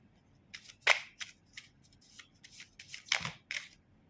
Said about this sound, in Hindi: सो हम इन कार्ड्स को नहीं लेंगे, हम फिर से शफल करेंगे।